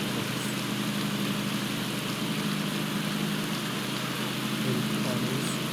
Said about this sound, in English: It's raining. It's quite raining here.